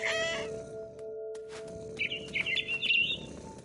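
Bird chirps from a PS4 video game: a quick twitter at the start, then a run of bright, warbling tweets over soft background noise.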